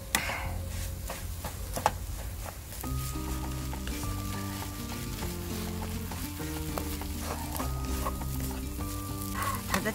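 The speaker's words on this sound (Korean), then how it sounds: "이제 볶아 볼까?" Rice fried with three eggs, salt and chickweed greens sizzles steadily in a pan while a spatula scrapes and taps. Soft background music plays over the frying.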